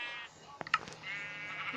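A sheep bleats a couple of short, nasal cries in the Minecraft video game, heard near and moderately loud over a steady synthetic background tone.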